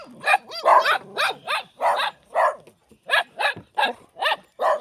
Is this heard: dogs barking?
yes